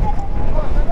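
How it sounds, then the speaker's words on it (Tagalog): Strong wind buffets the microphone in a loud, continuous low roar while riding a motorcycle, with a voice briefly audible under the gusts. "Ay, kalakas ang hangin."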